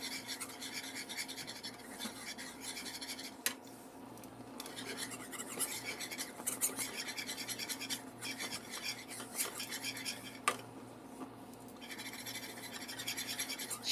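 A utensil scraping and stirring milk into a custard mixture in a bowl, with steady close scratchy rubbing strokes and occasional sharper clinks throughout, no voices.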